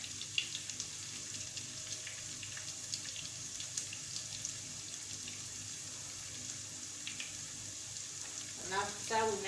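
Ingredients for a lasagne sauce fry in a pan with a steady, soft sizzle close by, joined near the end by a brief clatter of stirring.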